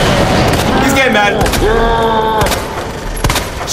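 Gunfire from shooting a monster in Resident Evil 2, a string of sharp shots and thuds mixed with game music and effects, with someone talking excitedly over it throughout.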